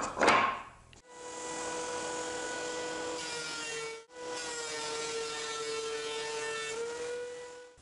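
A wood planer makes a pass over wooden blanks, giving a steady high whine with a hiss of shaving, briefly dipping between pieces before droning on again up close.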